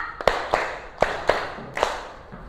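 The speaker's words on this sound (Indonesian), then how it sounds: "Tepuk 1, tepuk 2, tepuk 3, tepuk 4, tepuk 5." A classroom of pupils clapping hands together in counted unison: five or six sharp, separate claps spaced about half a second apart, close and fairly loud, with no talk over them.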